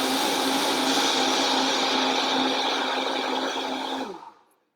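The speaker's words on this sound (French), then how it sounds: "Je le mélange au mélangeur." Electric blender whirring steadily as it mixes a vanilla protein drink, a loud, even motor whine close by that cuts off and spins down at the end.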